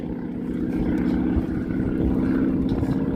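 A propeller aircraft performs a four-point hesitation roll at an airshow, its engine droning steadily and loudly from a distance throughout.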